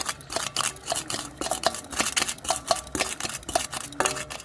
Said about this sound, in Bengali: দেখো হাতা দিয়ে আমি জিরেটা বেটে নিয়েছি